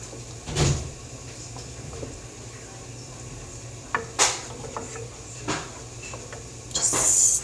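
A kitchen cabinet door is opened and closed while spices are taken out, giving a few soft knocks and clatters over a quiet room, with a brighter rattle at the end.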